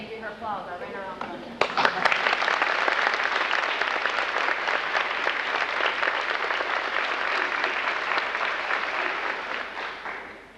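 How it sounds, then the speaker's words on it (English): At a 1996 middle school graduation ceremony, a speaker talks briefly, then an audience breaks into loud, sustained applause for a graduating student. Dense clapping swells quickly and continues steadily for several seconds before easing slightly. "I'm going to let her stand and give her applause."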